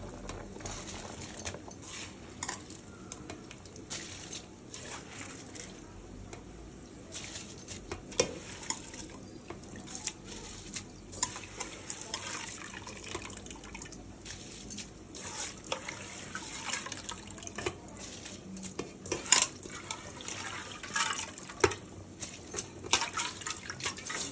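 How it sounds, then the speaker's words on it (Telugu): Washed basmati rice goes into boiling water for masala chicken pulao, a continuous watery wash and trickle with scattered soft clinks and stirring knocks, close and fairly quiet, no talk. "ఇప్పుడు ఈ టైంలో మనం కడిగి పెట్టుకున్న బాస్మతి రైస్ వేసుకుందాం."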